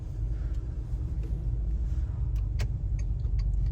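A car drives along a road through a Ukrainian town, making a steady low rumble of engine and tyre noise from inside the cabin, with a few faint clicks near the end.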